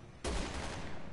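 A burst of gunfire from the co-op shooter Resident Evil 6 erupts after a quiet moment and rattles on loudly with a dense, continuous spray for about a second.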